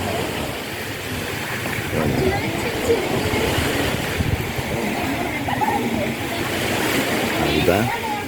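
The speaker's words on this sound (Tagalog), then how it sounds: "marinig mo lang yung hampas ng alon sa tabing baybayan." Ocean waves break on the shore at Tangkaan Beach in Burgos, Leyte, a continuous rushing surf filling the air at steady, fairly close loudness.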